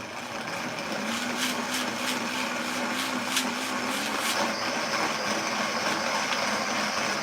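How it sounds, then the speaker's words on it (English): A Vitamix blender runs on low while blending Irish moss and water. It makes a steady, close whirring drone with a faint rattle and some shifts in pitch as the contents move, and no one talks over it. "There's no other blender worth buying."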